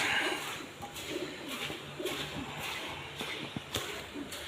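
Pigeons crowd over scattered grain at dusk, cooing faintly amid soft shuffling and pecking, a quiet, steady murmur with light scattered taps and no voices.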